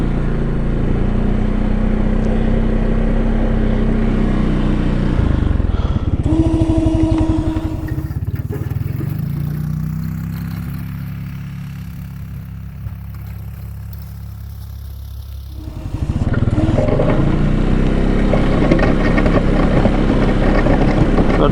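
A Can-Am Outlander 700 ATV plowing snow, its engine droning steadily and loudly throughout, dipping to a lower rumble midway before surging back, heard close with wind noise and no talk.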